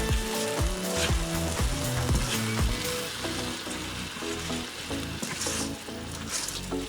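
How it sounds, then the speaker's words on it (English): A shrimp dish being stirred together in a hot pan, with a steady sizzle and frying hiss plus scraping stir strokes in a busy, fairly close stretch with no talking. "Now we're going to stir this all together."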